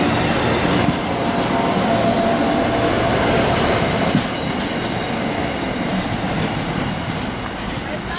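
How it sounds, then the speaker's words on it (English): A train rolls past close by with a steady, loud rumble and rail clatter that holds for the whole stretch, a faint squeal riding on top; brief indistinct voices may sit under it. "As the train disappears,"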